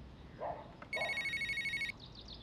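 A telephone rings once in an indoor film scene, a clear electronic trill pulsing rapidly for about a second, loud against a quiet room, with faint voices murmuring just before it and a soft chirping afterward.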